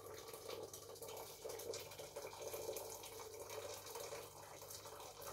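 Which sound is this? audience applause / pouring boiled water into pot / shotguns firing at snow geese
pouring boiled water into pot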